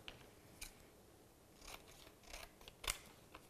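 Scissors trim paper photos for a family photo collage, making a few quiet, close snips and crisp cuts at uneven intervals with no voice over them.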